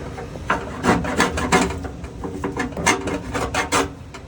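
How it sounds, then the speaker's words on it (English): Metal scrapers rasping thick grease off the fan blades of a commercial kitchen exhaust system, a close series of uneven scraping strokes with no talk. "By scraping the grease, you remove the excess buildup and it makes the chemical more effective when you degrease it."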